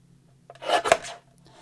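A paper trimmer blade slides once across a cardstock panel being cut down for a handmade card, a brief close rasping swipe with no talking.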